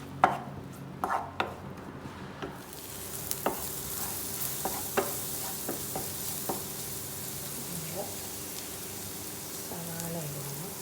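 Butter with garlic frying in a pan for palak paneer, a steady hiss of sizzling with scattered clinks and stirring knocks, close and moderately quiet.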